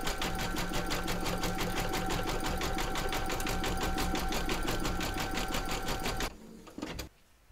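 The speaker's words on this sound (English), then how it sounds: "Pop your hoop into your machine and stitch round number one, and that's going to give you a placement outline for your batting." Embroidery machine stitching a placement outline on a hooped fabric, a loud, fast, even mechanical chatter of the needle running continuously, then stopping abruptly near the end with a couple of soft clicks.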